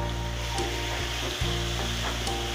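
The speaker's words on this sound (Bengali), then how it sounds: "মশলা ভাজা হয়ে গেছে আমাদের" Spice paste fries in a pan with a dense, steady sizzle that holds throughout, broken only by faint clicks of stirring.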